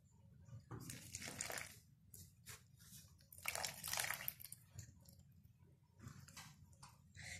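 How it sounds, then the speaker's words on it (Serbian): Well water pouring and sloshing into dough for a Christmas bread, broken wet splashing bursts spread across several seconds, fairly close and moderately loud, with no voices. "i sa malo nenačete vode."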